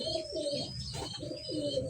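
A pigeon coos close by, two drawn-out throaty coos filling the moment, loud and alone without talking.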